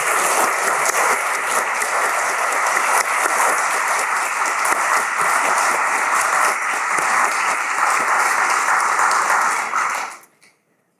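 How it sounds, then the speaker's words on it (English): Steady, dense applause from the audience at a Stetson University College of Law Hall of Fame event fills a hall for about ten seconds at full volume, then fades quickly to silence. "Please join me as we applaud their contributions one more time."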